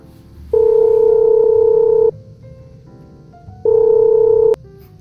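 A telephone tone plays while a call is placed to Jessica: two long, steady electronic tones separated by a quiet gap, loud and close with no voices.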